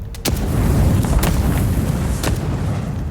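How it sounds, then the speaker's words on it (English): Grenade blasts in the fantasy action game Avowed, with deep booming bursts that rumble heavily and continuously at close range and no voices over them. "I held the button, I didn't realize it was just gonna keep auto-firing grenades"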